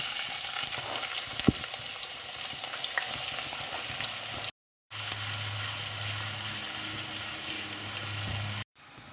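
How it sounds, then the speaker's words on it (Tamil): Onions and a blended chili-garlic paste fry in hot oil as a close, crackling, continuous sizzle with occasional stirring scrapes, cut by two brief silences, with no one speaking. "நல்லா வதங்கட்டும், எண்ணெயெல்லாம் பிரிஞ்சு வரும்."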